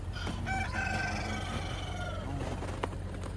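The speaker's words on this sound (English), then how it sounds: "Reagan's crowing at us." A rooster crows once on a snowy winter farm, its call rising and falling close by over a low steady hum of background noise.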